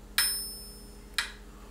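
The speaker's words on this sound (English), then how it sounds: "So what you're hearing is a 2 count on the metronome." Two sharp metronome clicks about a second apart, crisp and bright with a quick decay, alone in near silence.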